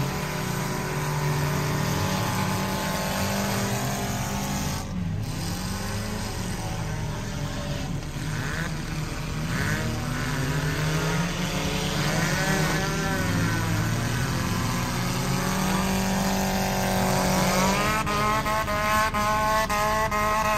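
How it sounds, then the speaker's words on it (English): Race cars on a dirt track arena during a B-main championship night, engines droning continuously at a steady distance with rising and falling pitch as cars circle, no voices over it. "The 28B of Burton still showing the way around the arena"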